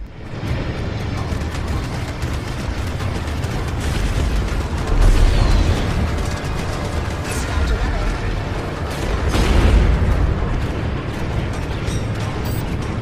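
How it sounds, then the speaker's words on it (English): A colonial missile launching in the space combat game Strike Suit Zero, with heavy rumbling booms and bursts swelling twice over dense, loud battle noise. "Colonial missile away."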